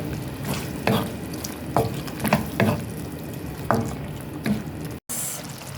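Mushrooms being stirred in a frying pan for a creamy beef tongue dish, with a soft continuous sizzle and several distinct scraping strokes of the spoon against the pan, close and steady, without talk.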